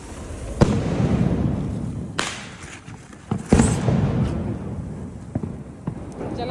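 Diwali firecrackers burst in sharp, loud cracks a few times amid a continuous crackling and rumbling outdoor din of fireworks.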